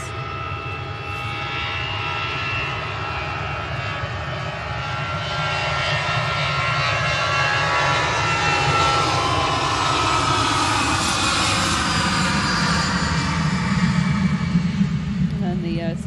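A Ryanair Boeing 737 MAX jet departs Manchester Airport for Eindhoven, its engine roar building steadily from a distance into a loud, sustained broadband rumble lasting many seconds, with faint talk under it.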